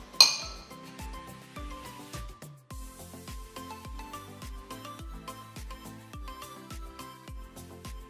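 Metal spoon repeatedly clinking against a bowl while ice cream mixtures, including a caramel one, are spooned in evenly, a steady rhythm of close, bright taps over the full stretch with no talking.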